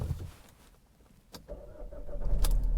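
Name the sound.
Vauxhall Insignia CDTI engine starting with push button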